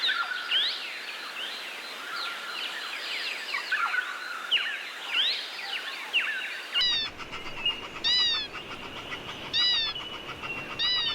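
Double-barred finches call in a series of thin, high, slurred notes, bright and fairly close. The first half is busy with overlapping chirps, and the second half has a run of repeated separate calls over a hissy background.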